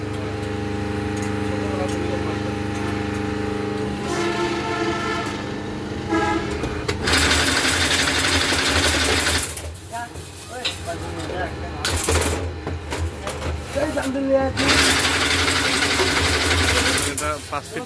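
A wire-cutting machine cuts BSRM 10-gauge GI wire into 5-foot lengths for mesh fence netting, giving steady loud mechanical clatter and hum with bursts of harsh broadband grinding, and voices talking over it.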